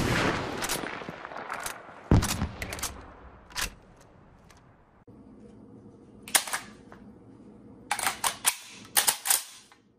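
Empty reload of a K31 rifle with a detachable box magazine in Battlefield V: a series of sharp metallic clicks, clacks and bolt snaps, some in quick clusters, standing out clearly against near silence.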